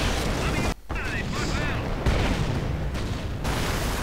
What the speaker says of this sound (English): And more rockets.